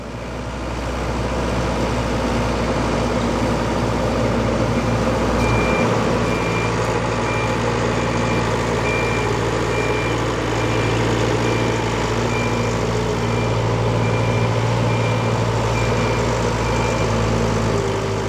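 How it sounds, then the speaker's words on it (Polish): A Faresin 625 telescopic loader with a 75 hp Yanmar engine runs continuously outdoors, a steady deep diesel drone with a repeating high reversing beep over it, loud and close. "główną maszyną, na której bazuję, jest to ładowarka teleskopowa Farizin 625"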